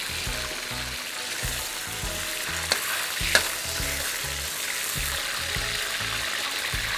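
Beef for Mongolian beef stir-fries in hot oil in a pan, a continuous loud sizzle broken by rhythmic scraping and tossing strokes, with a couple of sharp spatters and no talking.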